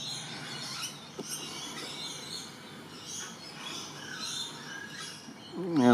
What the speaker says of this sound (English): Heaps of birds around this morning.